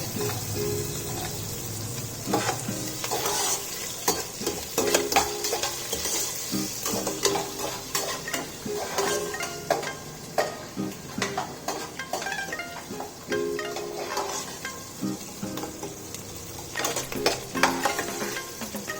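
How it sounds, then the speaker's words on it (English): Cashew nuts fry in a pan and are stirred, a continuous close sizzle broken by repeated scraping and clinking of the spoon against the metal, with no talking. "This is almost fried now. Let the cashew nuts become red."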